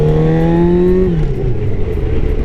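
A Yamaha R1 motorcycle engine revs loud and close in neutral, holding a steady high pitch for about a second before the revs fall away to a rough idle.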